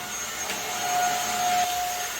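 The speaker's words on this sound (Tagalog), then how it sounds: "Vacuum siya dito sa taas." A vacuum cleaner runs during house cleaning in a home, a steady close whine and whoosh with a faint tonal hum that swells slightly midway, and no voices.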